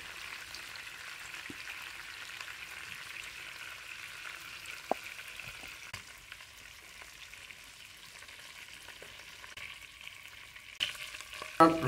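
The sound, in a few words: chicken pieces lightly frying in oil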